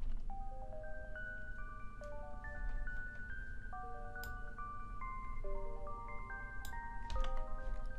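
Shimmering Omnisphere synth patch called Astral Visions 1, processed with EQ, playing quiet bell-like stepping notes in a sparkly melody over a soft noisy bed, with occasional bright high clicks; faint and steady throughout.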